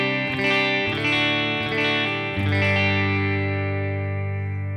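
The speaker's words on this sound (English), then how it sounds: "now here's a clean amp sound coming from a deluxe reverb" Electric guitar played clean through a Fender Deluxe Reverb tube amp, sustained strummed chords ringing with a bright, warm tone, a new chord struck around the middle and left to decay, with no talking.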